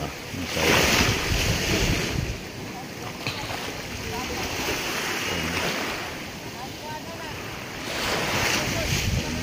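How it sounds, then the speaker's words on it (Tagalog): Big ocean waves roll and crash loudly and continuously on the coast of Cebu, with strong wind buffeting the microphone. "laking alon."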